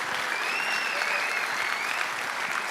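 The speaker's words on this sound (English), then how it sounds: "let's give them a big round of applause right now for putting this on for us" A conference audience at a flight simulation expo in Providence, Rhode Island applauds, a dense, sustained wash of many hands clapping with a faint cheer or whistle above it.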